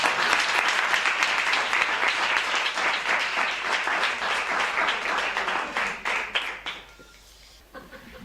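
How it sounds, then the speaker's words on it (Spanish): Audience applause at a gala and awards ceremony held in a rural hotel: dense, steady clapping from a large crowd that holds for several seconds, then thins and fades out toward the end. "Así que un fuerte aplauso."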